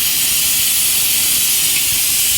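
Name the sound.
pressure cooker hissing steam while cooking meat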